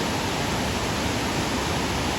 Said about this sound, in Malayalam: ചാപ്പൻതോട്ടം വെള്ളച്ചാട്ടം കേട്ടോ, അടിപൊളിയാണ്.